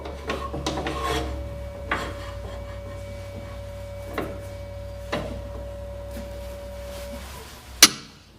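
The bottom of a woodturned box is finished on a lathe: a low motor hum runs under scattered raspy scraping strokes of a tool against wood, with one sharp knock near the end.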